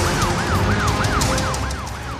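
An ambulance siren wails in a steady rising-and-falling cycle over loud road traffic, the sweeps repeating about every third of a second and staying close and prominent throughout.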